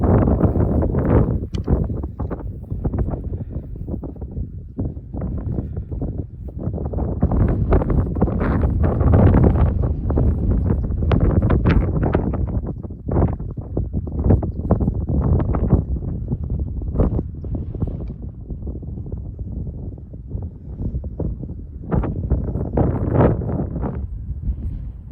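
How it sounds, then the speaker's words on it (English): Strong wind gusting across an outdoor spot in the bush, buffeting the microphone with a loud, continuous rumbling roar that swells and eases over time. "it's a little bit windy"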